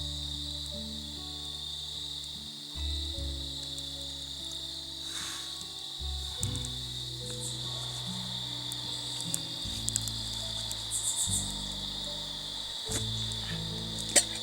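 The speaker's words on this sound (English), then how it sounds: "It was a calm evening, with just the sound of crickets and the occasional coyote" Crickets chirp steadily through a calm evening outdoors, a continuous high trill that stays even throughout, with low tonal music underneath and no voices.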